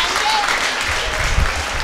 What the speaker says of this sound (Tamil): நல்லா ஒரு வாட்டி கை தட்டுங்க.